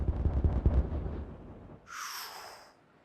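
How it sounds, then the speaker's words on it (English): Explosives detonate in the Timberborn city-building game, a deep rumbling blast with several heavy booms in the first second, fading into a lower roll before a brighter, higher burst follows. "3, 2, 1, detonate."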